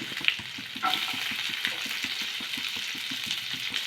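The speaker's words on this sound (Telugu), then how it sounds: "నెక్స్ట్ ఉల్లిపాయలు వేసుకోవాలి" Onions sizzling in a little oil with seasoning seeds in a pan for aloo fry, a close, constant crackling hiss with light rhythmic stirring pulses underneath.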